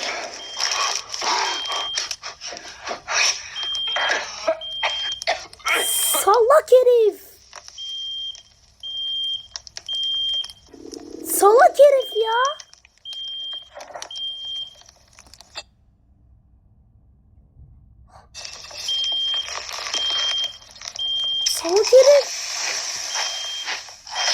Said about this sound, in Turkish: Yangın çıktı diye alarm veriyor bir de.